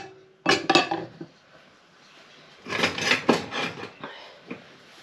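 A soup ladle clatters against a pot while leek and potato soup is dished up, two loud bursts of metallic scraping and clinking with a quiet gap between.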